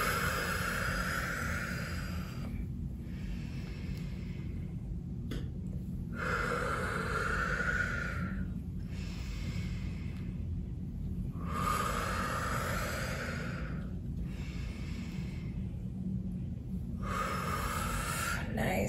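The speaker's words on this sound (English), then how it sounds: "Still going up with the inhale, like forward with the inhale, back with the exhale." Slow, steady breaths in and out, each long inhale and exhale alternating in an even rhythm over a low constant hum, close and soft, taken during a gentle womb embodiment ritual.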